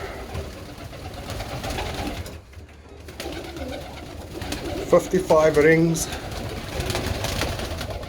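Birmingham Roller pigeons coo in short bursts amid steady background noise, with a person speaking nearby partway through.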